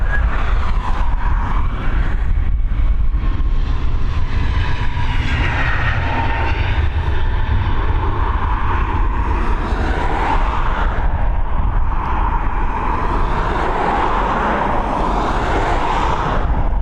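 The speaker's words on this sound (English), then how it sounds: "It's A321neo heading over to Washington." An Airbus A321neo climbing out over Dublin Airport, a loud, sustained jet roar with broadband rumble that holds steady and swells and fades slightly as the aircraft passes, no talking.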